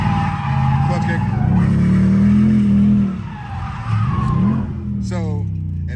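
A Ford Mustang RTR does a clutch-kick burnout. The engine roars loudly with strained, sustained pitch, tires squeal, and revs rise and fall as the car is pushed, with people talking over it.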